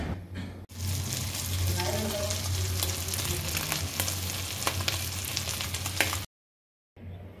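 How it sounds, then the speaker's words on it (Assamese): Two eggs frying in a pan give a steady, close sizzle that runs without a break for several seconds. Faint background noise sits under it, and then the sound cuts out briefly near the end. "এতিয়া ডিম 2টা ভাজিবলৈ লৈছোঁ"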